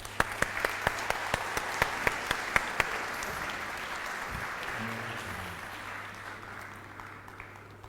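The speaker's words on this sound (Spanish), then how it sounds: "para los que pido un fuerte aplauso" Applause from the audience at a book launch in a Spanish-speaking venue, greeting two commentators, steady crowd clapping that starts with a few distinct claps and settles into a dense wash before slowly thinning out.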